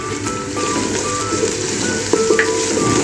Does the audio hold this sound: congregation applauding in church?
no